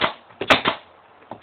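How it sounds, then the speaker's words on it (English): A staple gun fires into kneeler pad fabric in sharp, close snapping clacks, several in quick succession and another after a short pause. "Once you have all your side tension just right, then you take your staple gun"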